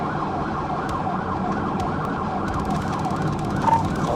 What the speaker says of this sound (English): The officer activated the siren and lights to initiate a pursuit.